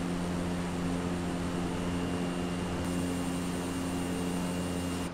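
Propeller aircraft engine from Microsoft Flight Simulator at night, a steady loud droning hum with constant tonal whine, alone with no voices throughout.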